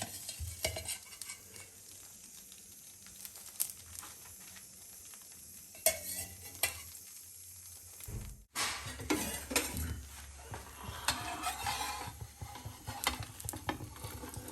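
A lachha paratha fries in desi ghee on a pan with a steady soft sizzle, broken by repeated scrapes and clatters of a spatula turning it and a brief sharp clank partway through, with no talking.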